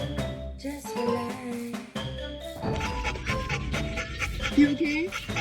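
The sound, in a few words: dog panting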